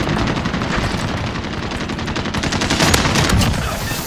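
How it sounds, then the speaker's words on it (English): Rapid sustained automatic gunfire in Call of Duty: Modern Warfare, loud and dense bursts of shots rattling continuously with no talk over them. "He's still shooting."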